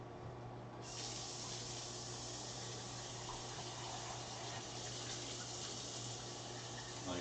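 Tap water runs steadily into a pot to be boiled for ramen, a faint, even hiss that continues without a break and with no talking.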